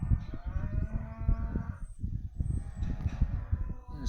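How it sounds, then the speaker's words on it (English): Cattle on an East Devon farm moo repeatedly and loudly, several overlapping low calls from cows separated from their calves, heard outdoors without talk. "the cattle are being very noisy today"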